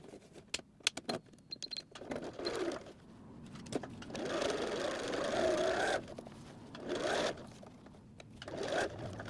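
A sewing machine runs a straight stitch across a beach bag in a few separate bursts, its motor whirring steadily between quiet pauses and sharp clicks from handling the fabric.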